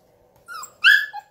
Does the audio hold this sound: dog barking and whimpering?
yes